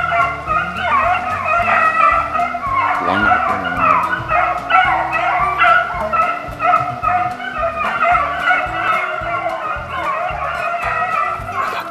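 A pack of rabbit-hunting hounds baying and yelping together, continuous and fairly close, with overlapping calls forming a steady chorus throughout.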